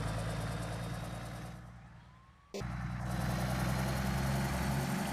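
A modded bus idles and runs in Bus Simulator Indonesia, a steady mid-pitched engine drone that dips and thins briefly midway, then cuts back in at full, constant loudness.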